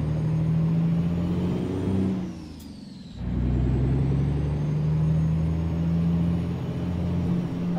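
A simulated 13-speed truck with a 625-horsepower engine in American Truck Simulator drones steadily, dipping briefly during a gear change with a hissing release before the low engine note returns and holds.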